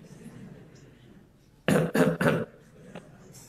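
A man gives three quick, forceful throat-clearing grunts in succession, loud and close, against a quiet room, with a brief breathy sound after them.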